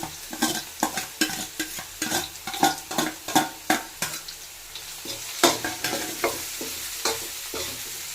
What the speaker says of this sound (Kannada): ಇದು ಶುಂಠಿ ಬೆಳ್ಳುಳ್ಳಿ ಪೇಸ್ಟ್ ಹಾಕಿ ಇದನ್ನು ಫ್ರೈ ಮಾಡ್ಕೋಬೇಕು ಸ್ವಲ್ಪ